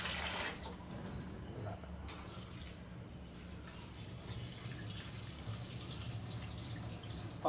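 Lentils being washed by hand, slowly swirled with water in a bowl to leave the sand behind, giving a steady close sloshing and trickling of water that runs the whole time with no talk.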